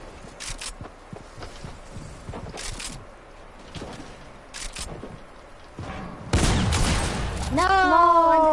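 Video game gunfire comes in short, spaced bursts over a few seconds, then gives way to a louder rush of noise and a rising electronic tone near the end.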